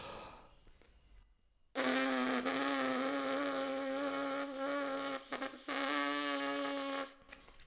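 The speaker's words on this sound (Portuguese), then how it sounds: "Esse sonzinho que sai dos lábios, a gente chama de abelhinha, porque parece o som de uma abelha" A trumpet and euphonium player's lip buzz exercise, air blown through the lips alone without the instrument: a steady, loud, bee-like buzzing tone held for about five seconds after a breath, stopping abruptly.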